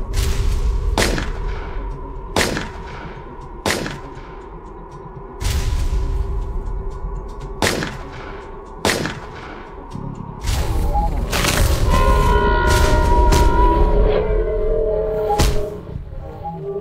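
Gunfire in a monster-hunting show: loud, evenly spaced single shots with booming low ends, followed by a denser, sustained burst of firing near the end.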